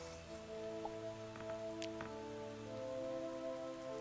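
Steady rainfall in the video game Starbound, a soft continuous patter under a low humming drone and sustained tones, with a couple of faint clicks and chimes.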